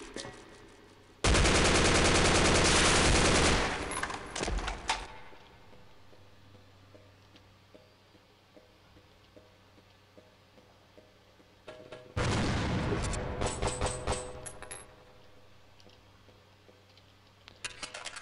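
Gunfire in the first-person shooter Brutal Half-Life, Surface Tension chapter: two loud sustained bursts of rapid automatic fire, each lasting a few seconds with trailing shots, separated by a quieter stretch of low game ambience.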